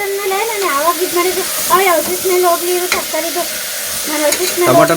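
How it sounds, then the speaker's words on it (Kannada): Tomatoes fry and are stirred in a pan, a continuous crackling sizzle with stirring scrapes, partly covered by a woman's chatty, sing-song voice talking over it close by. "ಅಲ್ಲೇ ಫ್ರೈ ಆಗಲಿ ಟೊಮೊಟೊ ಹಾಕ್ಬಿಟ್ಟು"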